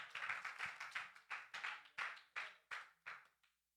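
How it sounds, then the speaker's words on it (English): A church congregation clapping in praise: a quick series of about a dozen sharp hand claps in a loose rhythm, each with a short reverberant tail, fairly faint and with no talking. "Give God a hand clap of praise all over this place."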